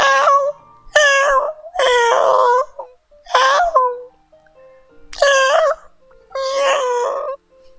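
A person imitating a cat's meow, with six drawn-out, wavering vocal meows that are loud and close, separated by short pauses.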